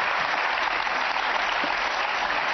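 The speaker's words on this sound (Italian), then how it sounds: "Sei riuscito a applaudire." Studio audience applause on an Italian television talk show, a dense, even roar of clapping that holds steady without pause, with no speech over it.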